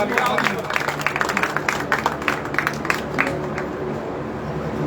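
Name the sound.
crowd applauding a welcome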